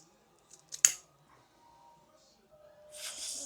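Scissors cutting through split wire loom cable sleeve tubing, one sharp close snip near the start followed by soft handling rustle, faint overall.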